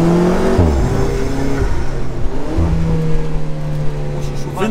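Alfa Romeo 4C Spider, a light 1000 kg car with about 400 hp and nitro, accelerates hard on a race track. The engine note rises through gears with a shift break, loud and close from inside the cabin, with people talking over it.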